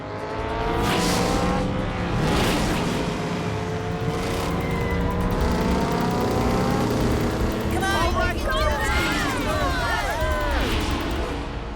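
Race cars accelerate during a race, their engines whining and rising in pitch and passing close, while excited voices talk over the racing.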